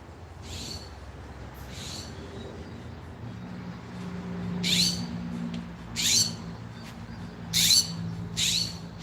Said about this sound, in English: Is that a blue jay?